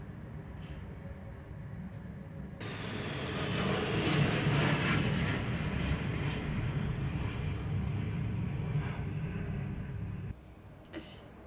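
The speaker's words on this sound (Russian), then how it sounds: "Он полетел, самолет." An airplane drones overhead, its engine roar swelling to a peak and holding steady before fading, heard alone at a moderate distance.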